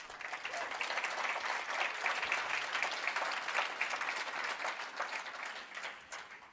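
Audience applause at the BlogPaws 2015 conference opening, a sustained, even roar of many hands clapping that carries on steadily throughout.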